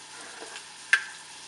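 Chicken frying in a pan with turmeric, chilli powder and salt being stirred in, giving a faint steady sizzle with a single sharp scrape or clink of the spoon partway through.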